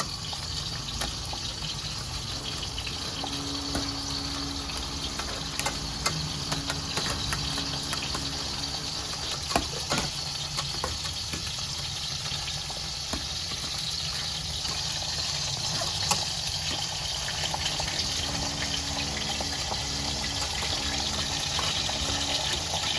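Water is pressed out of boiled taro greens in a strainer, making a steady close trickling and gushing that runs continuously throughout.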